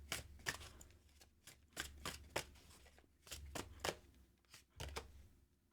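Tarot cards being shuffled close up, a series of quick riffling bursts repeating in an uneven rhythm, fairly soft and with no talking.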